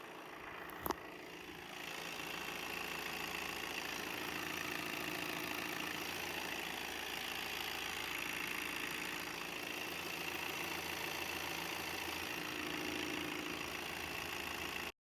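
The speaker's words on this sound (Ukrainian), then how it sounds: "Зараз послухаємо, як працює моторчик техесенько та рівно" A 2021 Volkswagen Transporter T6 van's engine idles steadily and evenly for the whole stretch after a brief click, a smooth continuous mechanical rumble close by.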